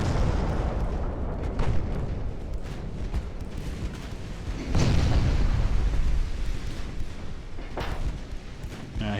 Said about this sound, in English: I'm gonna put another torpedo into this guy.